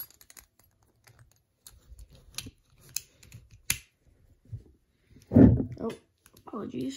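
Plastic clicks and snaps of a Beyblade spinning top toy being assembled, its TS18-Q driver and A02 attack tip fitted into place, come as sparse close taps before a voice talks near the end.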